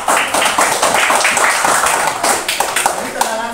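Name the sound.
classroom applause for a classmate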